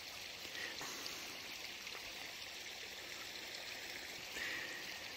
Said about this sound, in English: You can hear the creek here going by me to the left-hand side.